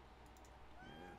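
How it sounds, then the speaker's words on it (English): A cat meows faintly in the background, a couple of thin, drawn-out cries against low room noise. "if you can hear the meowing in the background, that's my cat."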